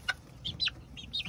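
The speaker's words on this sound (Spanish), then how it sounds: "Aquí están los pollitos recuperándose." Young chicks give several short, high peeping calls in quick succession, faint and close, with no talk.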